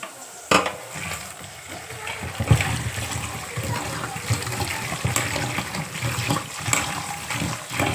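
Spinach leaves are swished and rinsed by hand in a basin of water, with splashing and sloshing that rises and falls in bursts, close and fairly loud.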